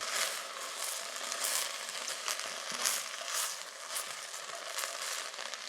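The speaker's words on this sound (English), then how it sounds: "You can probably hear that now, that sizzle." Cauliflower sizzles steadily in a hot pan, a close, bright hiss with crackling pops running throughout and no talking.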